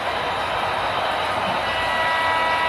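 Several model trains move under computer control across a layout, giving a continuous close rolling hum that holds level throughout.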